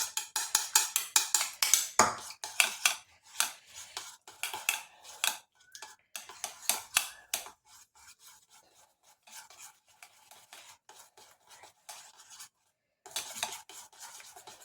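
Jaggery is mixed into egg white in a bowl with quick rhythmic rasping strokes against the sides, coming in bursts that thin out toward the end and stop briefly before resuming.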